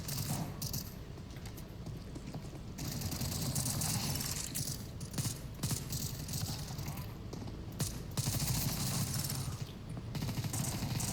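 A video game machine gun fires in long rattling bursts for several seconds, loud and steady, with keyboard tapping and clicking mixed in.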